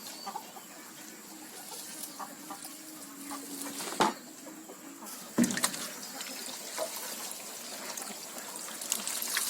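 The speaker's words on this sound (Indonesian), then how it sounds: "Nah, ini adalah sayuran yang sudah kita rebus tadi. Kita tiriskan terlebih dahulu." Water trickles and pours as boiled papaya leaves are drained, a faint steady dribble with a couple of sharp clanks and, in the background, soft chicken clucks.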